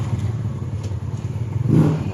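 A Sniper 150 motorcycle engine with an error 1 fault idles with a low, uneven rumble, then briefly revs up louder near the end.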